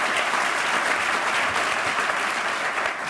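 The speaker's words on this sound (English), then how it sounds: "So how about one quick happy applause for all three of our..." Audience applause at a talk on behavioural experiments on online platforms, a full, steady wash of clapping from a crowd that holds strongly throughout and tapers only slightly at the end.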